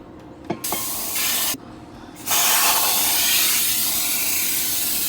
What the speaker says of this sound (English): I'm going to see if he can spray the pan